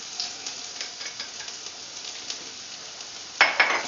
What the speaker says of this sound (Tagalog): Once the oil is hot, add the garlic till brown.